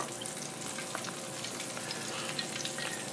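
Coated wild turkey pieces frying in oil, a quieter even crackling sizzle that holds steady throughout with faint scattered pops and no talking.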